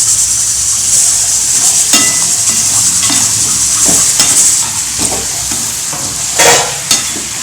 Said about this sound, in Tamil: நல்லா பெரட்டி விட்டாச்சு.